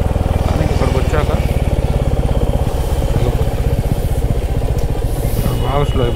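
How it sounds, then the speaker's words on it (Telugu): A Royal Enfield Classic 350 engine-brakes in first gear, its single-cylinder thump pulsing in a loud, steady rapid rhythm close to the microphone, with a voice speaking over it. "ఇప్పుడు ఫస్ట్ గేర్లోకి వస్తాను, చూసారా, ఏ బ్రేక్ యూజ్ చేయట్లేదు కానీ ఆగిపోతుంది."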